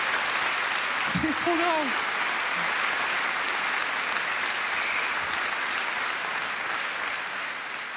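A comedy festival crowd claps and cheers steadily throughout, a broad, even roar of applause, while someone speaks briefly over it near the start.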